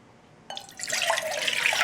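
Two cups of cold tap water pour into a GSI Soloist pot, a sudden splashing onset that quickly builds into a steady, close filling rush.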